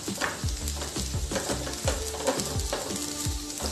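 Finely chopped carrot pieces sauté in a hot pan for masala oats, giving a steady close sizzle broken by a few sharp stirring scrapes and clinks from a spoon.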